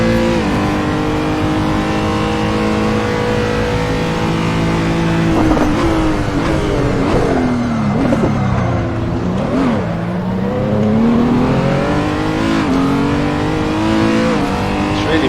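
Renault R.S.01 race car engines in a video game drag race at the Red Bull Ring, revving loud and steady with rising and falling pitch sweeps throughout, no voices.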